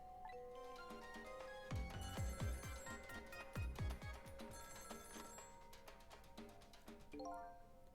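A telephone rings repeatedly in the video game Ghost Trick: Phantom Detective, its bright electronic trill sounding over game music with a steady rhythm throughout.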